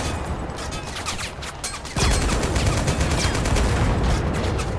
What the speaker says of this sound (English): they're all shooting tank shells and RPGs at me